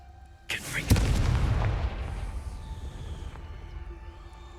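Confringo explosive spell blast in Hogwarts Legacy: a sharp boom bursts out and rolls into a loud, decaying rumble and debris wash lasting a few seconds, alone without talk.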